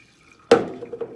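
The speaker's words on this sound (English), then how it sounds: "And I pour it into my tank." A sudden splash of PhotoFlow wetting solution being poured into a film developing tank, followed by a second of trickling and sloshing with small drips.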